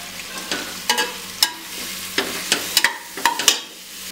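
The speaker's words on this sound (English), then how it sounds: "Now we'll add the finely chopped onions, thinly sliced." Finely chopped, thinly sliced onions added to a pot for mutton yakhni pulao, sizzling under irregular stirring clacks and scrapes, close and fairly loud.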